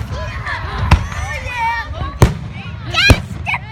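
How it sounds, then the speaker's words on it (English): Fireworks bursting at a 2016 display, three sharp booms spaced about a second apart, with children and adults chattering throughout. "They make fireworks."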